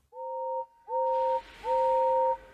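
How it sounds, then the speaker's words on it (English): A distant steam engine whistle from a wooden toy railway sounds three times as two-tone blasts, each longer than the last, with a soft hiss of steam building beneath them. "Far away, but getting louder and louder, was the sound of an engine's whistle."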